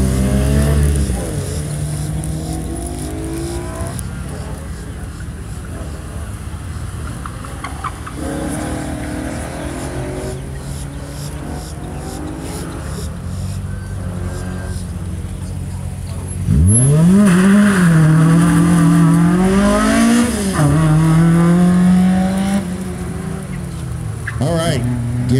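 A Chevrolet Camaro at a Central Florida SCCA autocross revs and accelerates through the finish, engine pitch rising and falling loudly with a strong surge near the end, while an announcer talks over it.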